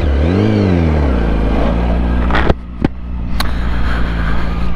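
A Yamaha R1 motorcycle engine revs loudly up close toward nearly 14,000 rpm, rising and falling in pitch, then drops back to a rough idle with a few sharp mechanical clacks.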